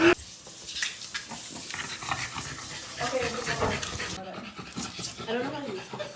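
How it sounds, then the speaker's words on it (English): A dog pants in quick, breathy puffs close by, heard under and between people talking indoors. "Is this your dog?"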